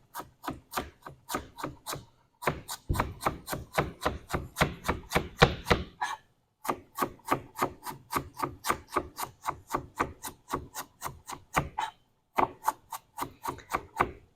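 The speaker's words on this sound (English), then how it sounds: "we are going to slice them very thin." A knife slicing collard greens very thin on a cutting board, a long run of quick, crisp, evenly paced chops with brief pauses, close and clear with no talking.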